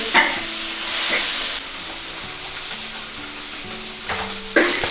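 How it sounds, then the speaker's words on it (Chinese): Meat sizzles and fries in a hot wok, with steady hissing and repeated scraping stir strokes, close and moderately loud in an outdoor country kitchen. "先炒个肉，放肉，把肉炒香过后再放配菜"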